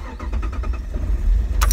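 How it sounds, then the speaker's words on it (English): A car engine cranks in quick rhythmic bursts and catches, rumbling loud and close with no talk. "my car almost didn't start there"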